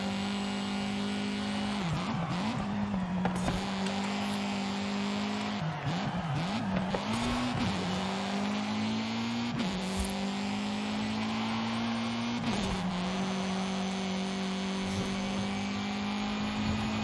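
Video-game car engine holding a steady drone through a lap in Forza Horizon 5, with pitch dipping and climbing at gear shifts and corners, and occasional tire squeal; loud and continuous, no talking.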